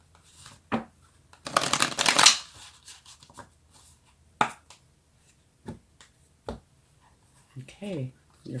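Tarot cards shuffled by hand, heard as one loud riffling burst followed by scattered soft snaps and taps of cards being handled, close by, with a person talking briefly near the end.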